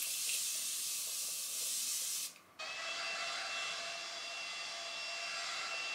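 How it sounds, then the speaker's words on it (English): Morphe Continuous Setting Spray in jumbo size being misted, a long continuous fine hiss that breaks briefly and then resumes as a second steady spray, close and fairly quiet, with no talk. "Morphe Continuous Setting Spray, jumbo size."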